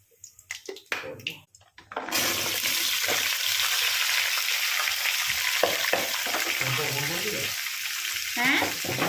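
Onion stalks and potatoes frying with black cumin tempering in a hot pan, a loud steady sizzle starting abruptly after a brief clatter and continuing unbroken, with occasional stirring scrapes.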